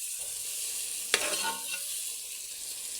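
Onions and tomatoes softening in a pan for tomato rice give a faint, steady sizzle. One sharp stir or scrape lands near the middle, and there is no talking.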